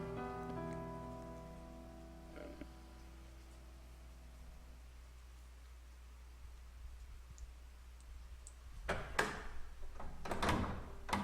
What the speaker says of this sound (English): The door before the departed slowly drew shut.